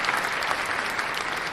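A small audience claps steadily for a short burst, close and dense, with no speech over it.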